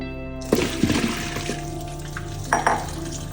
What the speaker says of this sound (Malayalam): ഇനി കോളിഫ്ലവർ നന്നായിട്ട് കഴുകി വൃത്തിയാക്കി മാറ്റി വെക്കണം